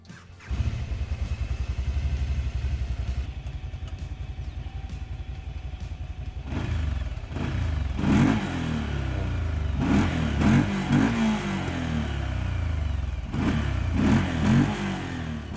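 A TGB Landmax 1000 UTV with a 997 cc, 83 hp two-cylinder V-twin engine cranks and catches, settles into a steady idle, then revs up in several loud rising bursts close by.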